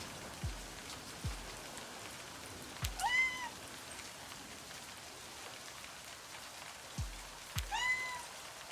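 Soft, steady video-game rain patter in the background, joined twice by a cat's meow and a few low thuds.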